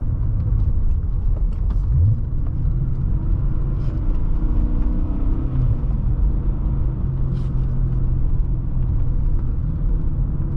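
A BMW E39 M5 on the road, a steady low engine rumble and road drone heard from inside, continuous and fairly loud with only slight swells in throttle.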